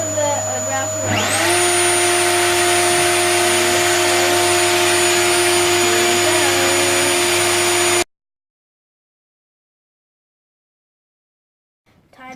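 A wood router cutting a fidget spinner case, starting at about one second and whining steadily and loudly up close until it cuts off abruptly at about eight seconds, followed by silence and a brief faint noise at the end.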